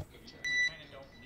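A single short electronic beep tone on radio communications during the Inspiration4 spacecraft splashdown, steady and moderately loud, rising out of a quiet background hiss with faint talk around it.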